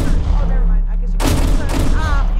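A loud burst of rapid gunfire in the Roblox game, a dense crackling volley cutting in about halfway through, with chatter and game noise running underneath.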